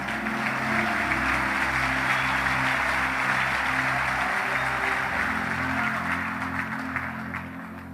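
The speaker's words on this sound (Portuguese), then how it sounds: "Dá uma salva de palmas para Jesus." A church congregation claps together in steady, full applause that fills the room. It holds for several seconds, then fades slightly at the end, with no talking over it.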